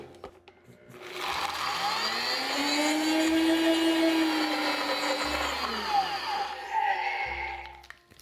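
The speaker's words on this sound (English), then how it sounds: "So back in the blender, we're just trying to grind it into really small chunks again." A blender grinds shredded unsweetened coconut and walnuts into small chunks, a steady high motor whir that runs for several seconds, then winds down and stops.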